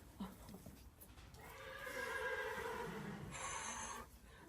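A pony at a horse show neighs once, a quavering whinny of a couple of seconds, faint and somewhat distant, over low background ambience.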